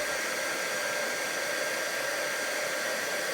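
A heat embossing tool blows a steady, loud hot-air hiss like a hair dryer as it melts silver embossing powder, an unbroken, even rush from start to finish.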